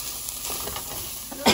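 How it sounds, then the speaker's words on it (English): Food sizzles and hisses steadily in a hot pan, with a few faint clinks and a louder scrape near the end. "I'm over here frying now."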